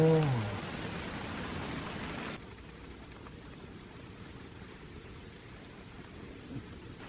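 Steady rain falls with a low thunder rumble underneath, a continuous hiss that drops a little softer after a couple of seconds and carries on evenly.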